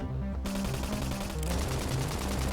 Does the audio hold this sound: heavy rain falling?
no